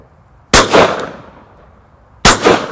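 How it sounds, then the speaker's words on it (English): Two loud, sharp shotgun blasts fired at flying pigeons outdoors, spaced under two seconds apart, each trailing off in a rolling echo. "So I've turned round and I'm shooting them on the flight line coming down the belt."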